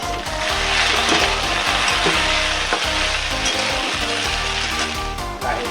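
Okra bhaji cooks in a pan over low gas with a loud, continuous sizzle and frying crackle, broken by rhythmic scraping and stirring strokes close by.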